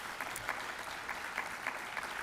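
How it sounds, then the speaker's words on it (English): Audience applause at a climate and community summit session, a steady, moderately distant patter of many hands clapping throughout, without talk. "She deserves a huge round of applause."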